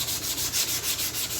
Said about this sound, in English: I use 60 grit to sand this thing down.